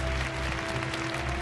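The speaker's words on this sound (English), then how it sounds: "And a big round of applause from everybody here at Yokohama Arena." A crowd at Yokohama Arena applauds after a kickboxing bout, a dense, sustained round of clapping under a low arena hum and a faint steady tone.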